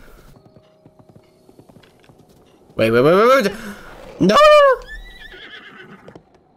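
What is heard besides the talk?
horse neighing and hooves in Breath of the Wild video game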